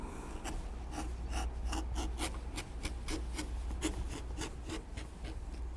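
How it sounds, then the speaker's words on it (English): A number 3 edge beveler shaves along the edges of leather in quiet, rhythmic scraping strokes, about a dozen short rasps in steady succession, close up with no talking. "we'll use a number 3 edge beveler, and we will bevel the edges all the way around, top and bottom"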